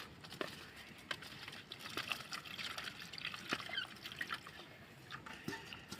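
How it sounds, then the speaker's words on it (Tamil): Water poured over turmeric-coated fish pieces to rinse them, a soft, faint trickling and splashing with small drips throughout. "தண்ணி ஊற்றி அலச போகிறோம்."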